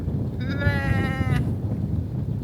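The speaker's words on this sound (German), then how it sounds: "Ihr seht hier ein paar Schafe." A sheep gives a single drawn-out, wavering bleat, close and clear, on a farm in Bosnia over low outdoor rumble and faint background noise.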